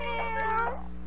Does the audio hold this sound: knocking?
no